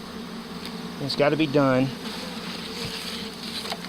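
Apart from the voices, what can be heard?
swarm of honeybees buzzing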